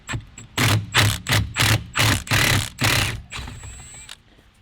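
A power tool drives out a Loctite-secured bolt on a Nissan 350Z ignition switch, with about eight short, aggressive bursts in quick succession, then a fading whine as it stops.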